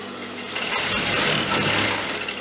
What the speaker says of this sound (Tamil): இப்போ இதுக்கு மேலே ஒரு தையல் போட்டு நம்ம இதை ஃபினிஷ் பண்ண போகிறோம்.